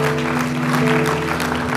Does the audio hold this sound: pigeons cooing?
no